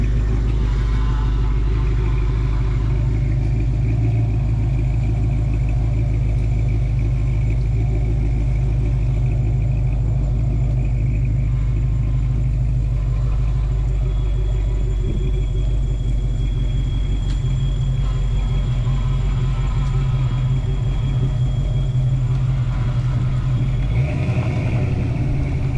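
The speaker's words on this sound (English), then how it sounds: "He's going to take the car down the road and make sure it runs decent at least." A Fox-body car with a leaking lower intake drives down the road, its engine a steady deep rumble heard from inside the car, with mild rises in revs and no talking.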